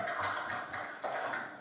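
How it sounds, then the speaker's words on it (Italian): Water being poured into a glass holding peanuts, a splashy, gurgling pour in a couple of close bursts with a short break between them. "ci metto l'acqua"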